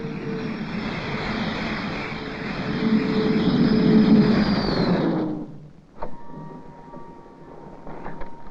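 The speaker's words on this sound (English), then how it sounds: "this is my friend, the Grumman Tiger. It's a jet" A Grumman Tiger jet aircraft roars loudly with a sustained broadband engine rush and a high whine for about five seconds, then cuts off abruptly, leaving quieter tonal hum and a sharp knock.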